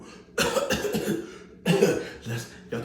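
A man coughs deliberately over food as a prank, with two bursts of harsh, close coughing separated by a short pause and a softer cough at the end, with no talking.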